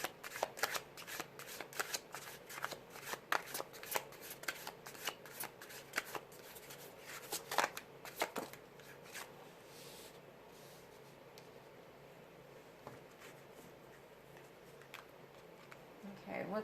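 Tarot cards being shuffled by hand for a reading, giving rapid riffling and flicking bursts close up, steady for about ten seconds before easing into quieter handling.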